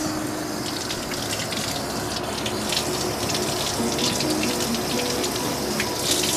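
Sprouting seeds are rinsed under steady running tap water in a jar fitted with a sprouting lid, a continuous gushing, splashing flow that holds even and fairly loud from start to finish.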